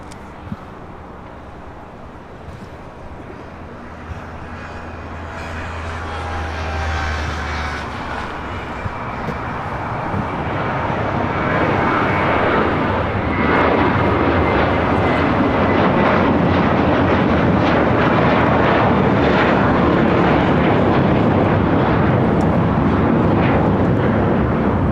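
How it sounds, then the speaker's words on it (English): American Airlines A321 jets taking off on the south side at LAX, a steady roar that swells from distant rumble to a loud, sustained broadband thrust as the jet passes. "A couple of American A321s taking off here on the south side."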